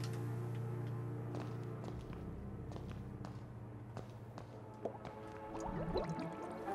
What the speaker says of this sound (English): Okay, we used the water cooler.